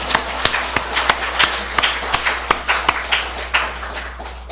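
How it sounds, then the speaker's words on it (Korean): Hand claps ring out in a church, a series of sharp, fairly regular claps close at hand that continue steadily for several seconds without speech. "우리 하나님께 영광의 박수 한번 올려드릴까요?"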